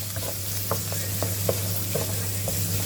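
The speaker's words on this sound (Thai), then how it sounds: "ใส่เนยเราจะผัดหมูสับนะคะ" Minced pork stir-frying in butter for a spaghetti sauce, with a steady close sizzle and a low constant hum, broken by soft, regular scrapes of a utensil about every half second.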